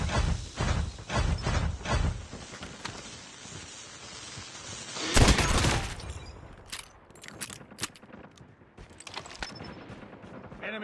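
Gunfire in the video game Call of Duty Mobile, with rapid automatic bursts up front, then a loud explosion-like blast midway and scattered shots and effects trailing off.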